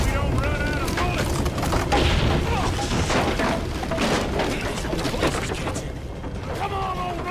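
Gunfire in the western video game Red Dead Redemption 2, a loud, steady barrage of shots and booms in a chaotic shootout, with voices talking over it.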